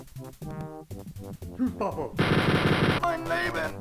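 A chain gun fires in a first-person shooter game, with bursts of rapid shots and a dense sustained rattling stretch, interspersed with other in-game effects, moderately loud.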